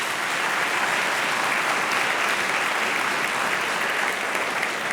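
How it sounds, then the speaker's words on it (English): An audience at a public debate on taxing the rich applauds steadily and loudly for the full stretch, a dense, even wash of clapping with no talk over it. "a round of applause for those"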